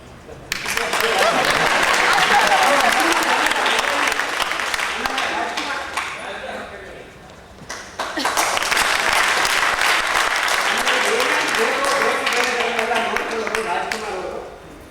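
Loud audience applause at a drama performance, a dense sustained wave of clapping that dips briefly, then swells again and continues to the end, with crowd voices mixed in.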